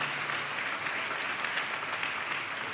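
A church congregation claps together in praise of Jesus, producing steady, dense applause that holds at an even level throughout without any talking.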